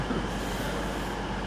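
A Class 221 train at Exeter St Davids station gives a steady, loud rumble of running engine and rolling wheels, close and continuous.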